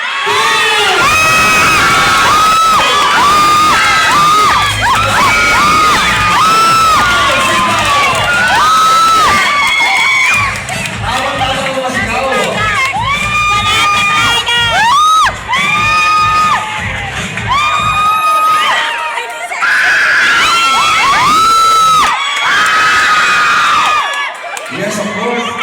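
A loud crowd at a birthday celebration contest cheers, whoops and shouts continuously, with children's high voices prominent and excited yells rising and falling throughout.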